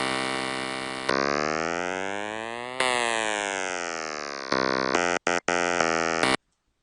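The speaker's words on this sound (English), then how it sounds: "That's like really weird, like Game Boy Advance sort of sound" Buzzy square-wave synth tones in FL Studio, Game Boy Advance-like, slide and hold in long bright sweeps, then switch to short stepped notes with brief gaps before cutting to silence.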